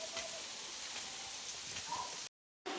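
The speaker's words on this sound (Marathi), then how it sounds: "आता पाऊस चालू आहे" Steady rain falls outside a rural home during the monsoon, a dense, even hiss of drops on surfaces that carries on without a break before cutting out briefly near the end, with no voices.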